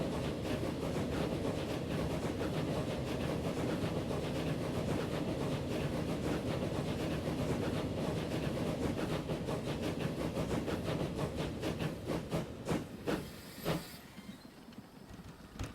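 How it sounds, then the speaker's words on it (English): A train rolls past on the West Coast Main Line near Manchester, a steady distant rumble with rhythmic wheel clicks that fades toward the end. "There goes another train."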